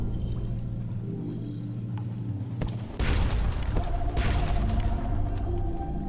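Booming cannon fire from a ship in the video game Sunless Sea, a heavy burst at about three seconds followed by a loud sustained roar and a second blast, over a low droning game soundtrack.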